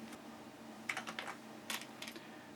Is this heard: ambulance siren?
no